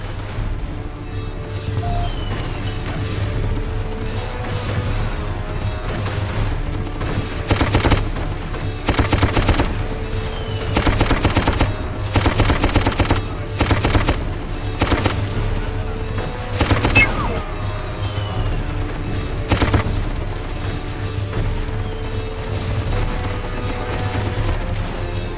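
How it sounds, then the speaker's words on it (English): A machine gun in the Darkest of Days video game lays down cover fire in long sustained bursts with short pauses, loud and close, under scattered battle noise. "Get your ass on that gun and provide cover fire."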